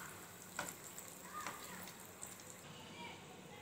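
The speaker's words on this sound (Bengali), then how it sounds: "একসঙ্গে আমি তিন চারটে করে ভাজবো, বেশি দেব না।" Khaja pastries frying three or four at a time in hot oil, with oil ladled over them, give a faint, steady sizzle broken by a few sharp pops.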